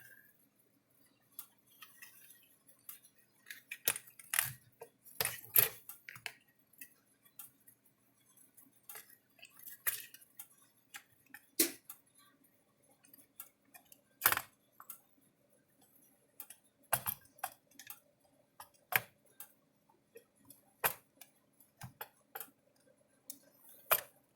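Sharp, isolated clicks snap out at irregular intervals over near silence, each a brief broadband tick, from a Speedrite SM 2400 electric fence charger pulsing during repair.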